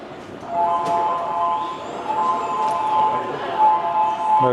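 A train rumbles into a station in Japan with a steady roar and faint tonal squeal, stopping at the platform gate while people talk nearby over the noise.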